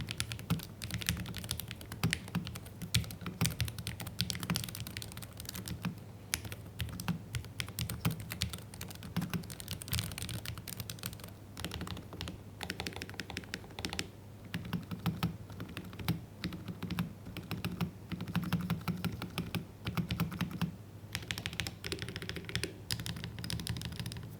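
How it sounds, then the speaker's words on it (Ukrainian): Brisk, steady typing on a Wlmouse Ying 75 keyboard fitted with Nightfall switches: dense, close clacks and thocks in an irregular, continuous rhythm, heard alone without speech. "заслуга такого тайпінгу це в першу чергу перемикачі"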